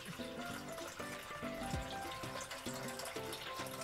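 Water poured steadily into a container for pizza dough, a continuous close trickle with a fluctuating tonal ring as the vessel fills, with music playing faintly underneath.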